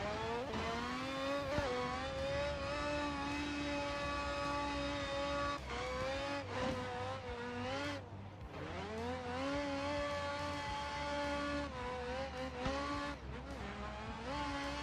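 Engine of a drift car revving hard and holding high rpm, with repeated rises and drops and a brief lift near the middle, loud and close with a rich, harmonic buzz throughout.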